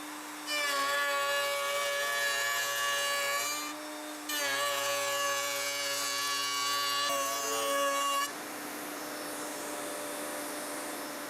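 A router table bit mills a bevel into a wooden transition strip, a loud sustained whine with a brief dip between passes as the wood feeds through, then winding down to a quieter hum.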